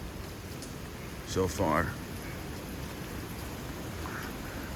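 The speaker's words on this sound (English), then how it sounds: "that rain's cold" Cold rain falls steadily outdoors during a hurricane, a soft continuous patter and hiss, while someone speaks briefly over it.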